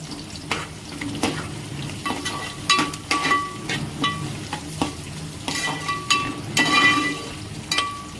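Curry leaves and onions stir-fried in a pan, a soft steady sizzle broken by repeated scraping strokes of a spatula and occasional light metallic clinks, close and fairly loud.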